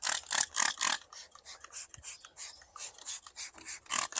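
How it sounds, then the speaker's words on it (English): Wiping wax off a boat hull with a degreaser and cloth, rhythmic close rubbing and rasping strokes repeating about three times per second, steady and moderately loud with no voices. "I'm going to use the Eco Clean degreaser to take this wax off."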